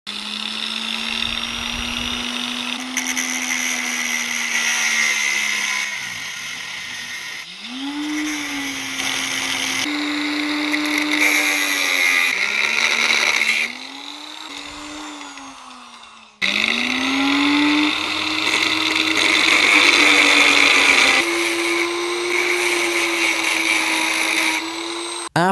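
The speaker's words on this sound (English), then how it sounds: "now I'm going to take a cutting wheel and gradually grind down the race" A cutting wheel grinds down the bearing race of a CV joint on a half shaft, a loud continuous high-pitched whine that rises and falls in pitch as the load changes, with brief pauses where the wheel lifts off the metal.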